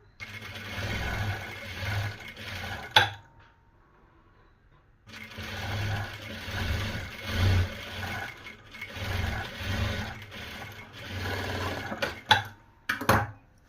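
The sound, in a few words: sewing machine stitching a blouse sleeve lining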